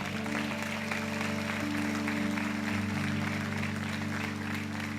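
Applause for the Lord during a church sermon, a steady, moderately loud wash of clapping from the congregation over a sustained droning organ or keyboard tone.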